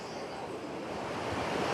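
Sea waves at Mangalore beach, a steady broad wash of surf with wind rumbling against the microphone, continuous and fairly loud, no voices.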